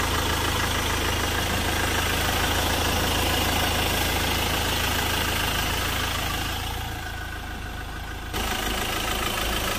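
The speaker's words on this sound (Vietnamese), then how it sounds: "Đây, động cơ đang hoạt động đây, máy nổ không hề rung lắc." Ford Ranger XLS pickup with automatic transmission idling, a steady close engine drone held at constant level with no revving, briefly dipping slightly near the end.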